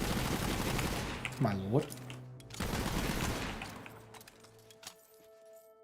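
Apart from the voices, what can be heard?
Gatling gunfire in video game Borderlands 3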